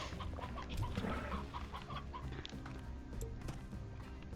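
Rooster clucking in the video game Slime Rancher, a series of short, faint clucks over background game noise.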